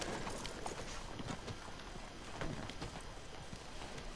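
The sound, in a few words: horse hooves clip-clopping in a video game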